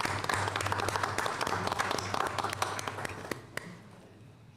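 A standing audience applauds at a Pine Bluff city council meeting, with dense, sustained clapping that stays fairly even before thinning at the end.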